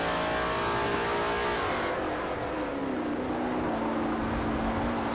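Race car engine in Forza at Motegi GP, held at a high buzzing whine that dips as the throttle is feathered through a corner, then climbs steadily again, loud and close with no talk.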